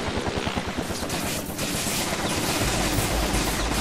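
A helicopter's rhythmic rotor thumping mixes with bursts of rapid gunfire in the video game Infamous 2, loud and close, with the chopping pulses clearest early before merging into a dense, sustained roar.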